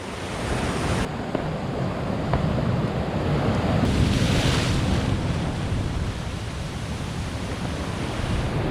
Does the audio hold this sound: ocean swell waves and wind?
yes